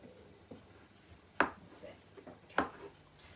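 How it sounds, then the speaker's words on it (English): A knife chops through wartime bread dough on a board, with two distinct sharp cuts standing out among softer knocks and handling sounds in a quiet kitchen. "So we're going to chop."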